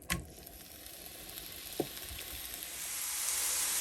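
Bacon sizzling steadily in a pan for breakfast muffins, a continuous soft hiss that grows slightly louder toward the end, with a couple of brief clicks near the start and middle.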